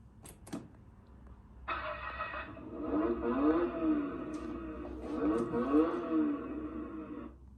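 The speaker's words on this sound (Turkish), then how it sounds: "Bu power düğmesine bastığımızda aracımız çalışıyor ve e, gerçek araç sesi fonu eklenmiş." Electric ride-on toy truck, a licensed Mercedes-Benz model, plays a recorded engine sound effect through its speaker, a steady humming engine drone with rising revving swells, heard fairly close after a few brief clicks.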